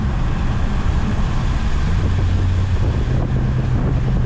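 Steady roaring wind buffeting the microphone through the open window of a 2023 Fiat Pulse Abarth 1.3 turbo, with a low engine drone beneath and no talking.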